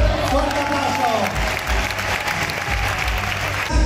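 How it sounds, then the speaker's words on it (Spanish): A crowd applauds a finalist at a live comedy contest, loud sustained clapping with a few cheers and voices over it, ending abruptly near the close. "¡Fuerte aplauso!"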